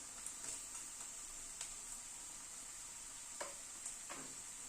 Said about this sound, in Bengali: গ্যাসের ফ্লেমটাকে কিন্তু একদম কমিয়ে নিয়ে মশলা কষাচ্ছি, যাতে মশলাটা পুড়ে না যায়